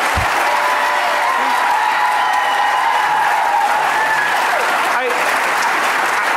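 A crowd at a school board meeting keeps up continuous applause with some voices and faint whistle-like tones mixed in, loud and unbroken throughout.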